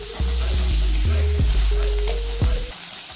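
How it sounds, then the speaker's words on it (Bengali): Chopped onion fries with garlic in a pan, giving a continuous close sizzle. Several soft thumps and scrapes from stirring are heard, with no speech. "রসুনটা যখন স্মেল ছাড়তে শুরু করবে তখন তার মধ্যে কুচনো পেঁয়াজ আমরা অ্যাড করে দেব পেঁয়াজটা অ্যাড করার পর সেটা একটু নাড়াচাড়া করতে হবে"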